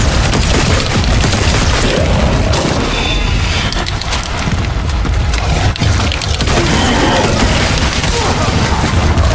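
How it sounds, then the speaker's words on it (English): Explosions in the sci-fi horror game The Callisto Protocol, heard as dense, loud, continuous booming and crackling blasts with a brief lull midway, filling the whole stretch. "The explosions."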